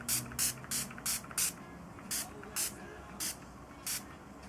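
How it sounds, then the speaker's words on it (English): Urban Decay All Nighter makeup setting spray mists from a pump bottle in about ten short, close hissing bursts: a quick run of five, then sparser single puffs. "I end it with Urban Decay All Nighter Makeup Setting Spray."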